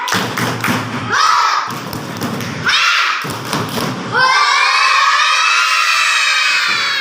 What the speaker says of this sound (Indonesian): Coba deh Ustazah ingin tahu tepuk semangatnya bagaimana?